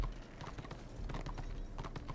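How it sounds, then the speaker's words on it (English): Pack mule hooves clip-clop steadily in the Warhammer Return of Reckoning game, a continuous rhythmic trot of soft repeated footfalls at moderate volume with no talking. "it's a level 2 slave pack mule"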